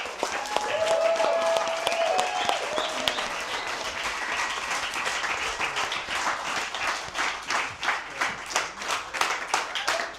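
A conference crowd applauds at the close of a sovereign citizen conference, with loud sustained applause that turns into steady rhythmic clapping in unison during the second half.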